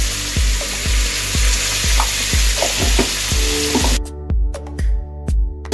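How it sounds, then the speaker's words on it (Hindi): Spice paste sizzles loudly as it fries in hot oil while being cooking a banana flower dish, with a steady crackle broken by regular scraping strokes of a stirring spoon against the pan. "जो मैंने पेस्ट बनाया था वो डालूंगी तेल में।"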